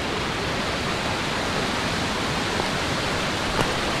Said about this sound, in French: Avec donc au fond là-bas la cascade.